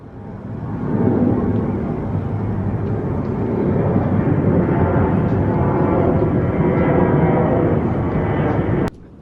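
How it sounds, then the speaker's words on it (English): A small airplane revs up for takeoff near the Mekong River in Luang Prabang, Laos, a steady loud engine drone that swells and holds for several seconds before cutting off abruptly. "it looks like a little one is getting ready for takeoff"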